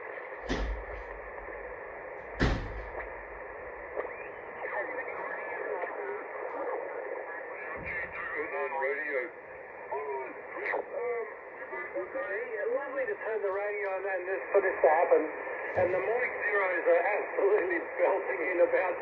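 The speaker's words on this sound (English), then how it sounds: "Okay, the sound is good here for this old radio." A vintage Yaesu FT-7B ham radio receiving on the 10 meter band plays through an external speaker, giving a steady hiss with warbling, garbled signals and distant voices, punctuated by a few sharp clicks.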